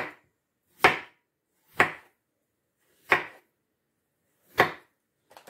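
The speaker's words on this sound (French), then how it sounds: "on va commencer à découper des rondelles, bien sûr." A knife slices raw potatoes into rounds for a salmon gratin dauphinois, giving four crisp, close chops on a cutting board at uneven intervals with silence between, then a faint clatter at the end.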